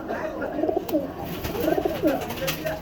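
Silver-line pigeons coo close by in repeated soft, throaty, rolling calls, with a second bird answering, over a faint background murmur.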